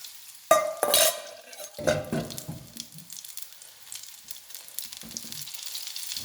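Courgette fritters frying in hot oil, with a steady close sizzle under sharp utensil clatter and scraping bursts near the start that settle into continuous crackling.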